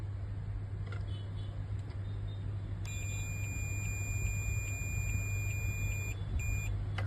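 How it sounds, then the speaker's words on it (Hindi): Long continuous multimeter continuity beep from probing a capacitor leg on a shorted Dell Inspiron 5520 laptop motherboard, a steady high tone lasting several seconds over a constant low electrical hum. "कंटिन्यू बीप जनरेट होता है, जैसे आप किसी भी लेग पे चेक करो।"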